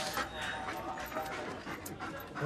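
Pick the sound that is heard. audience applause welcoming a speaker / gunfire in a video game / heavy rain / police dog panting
police dog panting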